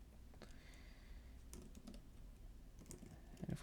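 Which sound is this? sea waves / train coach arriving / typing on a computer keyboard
typing on a computer keyboard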